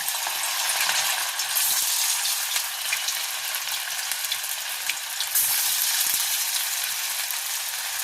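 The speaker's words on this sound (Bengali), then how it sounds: "এবার আমি এক একটা মাছের টুকরোগুলোকে ফ্রাই করে নেব।" Vetki fish pieces frying in white oil in a pan: a loud, dense, close crackling sizzle, bright and steady throughout with fine rapid spatter, alone with no talk.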